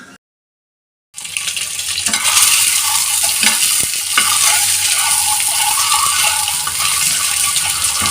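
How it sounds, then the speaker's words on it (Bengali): Eggs frying in a pan in a home kitchen, a loud continuous sizzle that bursts in suddenly after a moment of silence and holds steady, with faint clatter and stirring. "ডিমগুলো ভেজে নিচ্ছি"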